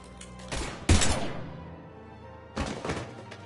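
Gunfire in the Mass Effect 3 video game: a sharp burst of shots with heavy thuds near the start, then a second short volley after a brief pause, loud and close.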